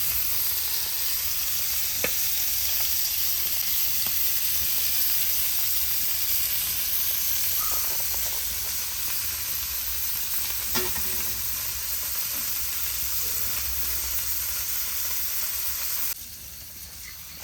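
Boneless Boothai fish fry in hot oil with a loud, continuous sizzle and crackle, close and steady, with occasional stirring clinks and spatters. Near the end the sizzle drops a little quieter.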